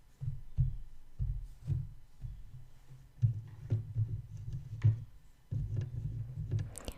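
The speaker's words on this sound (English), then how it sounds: "either touching the tabletop or touching the cords that my microphone is hooked up to" Soft, close thumps and light tapping of fingers on a tabletop and brushing cords, irregular bumps with quiet rustles between them.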